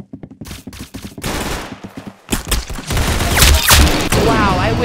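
Gunfire in a first-person shooter video game, rapid loud shots and bursts building into a dense stretch of firing, with a voice shouting over it.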